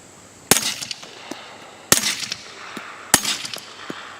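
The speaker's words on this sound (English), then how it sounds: "very surprised at how well this is suppressing this large 45" Three suppressed .45 gunshots fired through a Griffin Revolution 45 suppressor, sharp muffled cracks about one and a half seconds apart, each followed by a short metallic clatter and echo.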